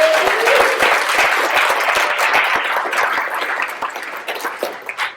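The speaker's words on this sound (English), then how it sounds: "Can we get a round of applause for Hashim?" Conference audience gives a round of applause at a keynote session, dense steady clapping throughout that slowly thins toward the end.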